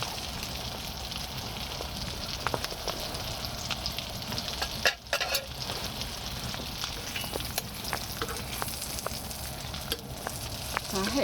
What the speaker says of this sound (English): gently, slowly cooking, which is good.